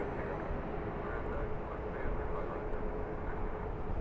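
A Boeing 777-300 arriving from Beijing lands at LAX with full flaps, heard as a broad, steady roar that swells slightly during touchdown.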